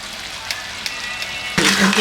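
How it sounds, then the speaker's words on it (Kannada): Ground masala paste dropped into a hot pan for egg and chicken sambar bursts into a loud, steady sizzle partway through, after a quieter stretch of low kitchen hiss with a few faint clicks. "ಇವಾಗ ರುಬ್ಬಿರೋ ಮಸಾಲಾನ ಹಾಕೋತಾ ಇದ್ದೀನಿ"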